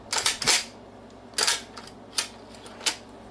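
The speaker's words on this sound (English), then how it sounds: "Now, we're going to open that bolt." The bolt of a G Force GF-25 shotgun is worked open with a quick series of sharp metallic clacks and clicks, close up and loud, followed by a few lighter, spaced clicks.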